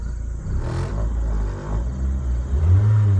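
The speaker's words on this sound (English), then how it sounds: "Revs up nice and clean." A Ford Focus engine with 118,258 miles and its rear end ripped off revs cleanly, a close, steady rumble that swells briefly near the end.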